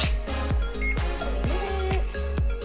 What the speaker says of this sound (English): I'm gonna set a timer for 20 minutes